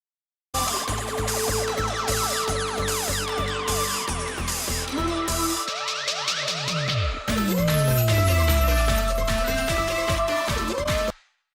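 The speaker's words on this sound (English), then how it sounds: "let's hear that sub boom in the track" A deep, distorted sub-bass boom sweeps downward beneath a busy future bass drum pattern, loud and continuous with no voices.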